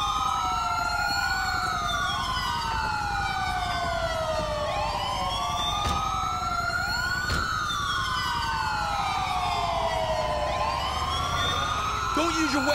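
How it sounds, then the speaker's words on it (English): An ambulance siren in the video game Grand Theft Auto 5 wails continuously, loud and close. Its rising and falling sweeps repeat throughout, with a couple of sharp knocks and a low vehicle rumble underneath. "it's the ambulance!"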